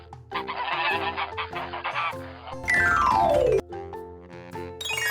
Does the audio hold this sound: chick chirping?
yes